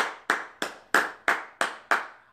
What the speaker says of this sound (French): On applaudit pour la reine mère.